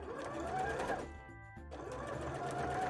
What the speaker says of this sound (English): And then just sew the whole way around here.